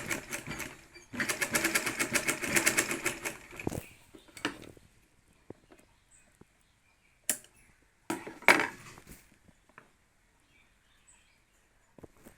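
A domestic sewing machine stitches a folded saree fall. It starts with a fast, rhythmic run of close needle strokes for about three seconds, then short, scattered bursts and clicks separated by quiet gaps.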